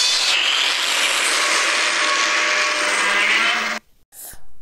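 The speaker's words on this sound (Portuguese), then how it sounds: "Pronto, gente, esse foi o som de vários Godzillas" A Godzilla roar sound effect from the films, a long, loud, harsh roaring screech held for several seconds before cutting off, followed by a short fainter burst.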